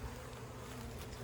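Honeybees buzz steadily around hive bodies during a winter hive rotation, a dense continuous drone close by with no talk.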